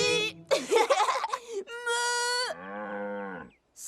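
A cartoon cow gives drawn-out moos in a children's animated story set on a farm, loud and near, mixed with excited cartoon voices, including a voice that imitates the moo.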